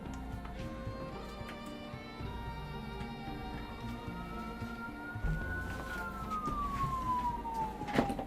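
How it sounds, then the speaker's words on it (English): An ambulance siren passes by outdoors, a wailing tone sweeping up and down over distant traffic rumble, growing louder toward the end as it draws near. "Ambulance going by, that's not great."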